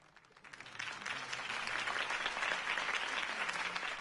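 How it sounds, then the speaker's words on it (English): Crowd applause after Harvey Dent's campaign speech in the Batman Telltale video game, swelling quickly from quiet to a full, steady roar of clapping that stays loud to the end. "If only Mr. Wayne, my campaign's largest backer, could have heard that applause"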